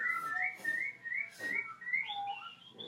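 A person whistles a wavering, sliding tune, clear and close, with short gaps between phrases and no talking.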